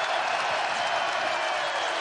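A basketball arena crowd during a Marquette college game roars with steady, dense applause and cheering that fills the space evenly for a couple of seconds, with no single voice standing out.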